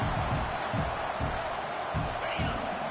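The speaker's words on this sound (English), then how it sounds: "Listen to this crowd just shaking the girders of this place, trying to help their defense" Dense roar of a stadium football crowd cheering in the fourth quarter to help the defense, loud and continuous with rhythmic surges of stomping and chanting throughout.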